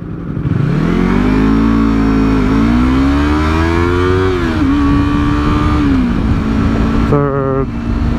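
A motorcycle pulls away from a stop and climbs through the gears, its engine note rising in pitch, dropping at each upshift and rising again, loud and close.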